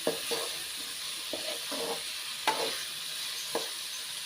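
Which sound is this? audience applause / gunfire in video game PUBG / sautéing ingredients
sautéing ingredients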